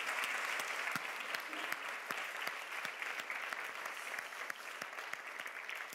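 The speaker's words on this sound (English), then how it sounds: "I just think we should give these two guys a round of applause." A small audience applauds Paul and Amy after a talk, a fairly quiet but steady patter of individual claps with distinct sharp hand strikes spread across the whole stretch.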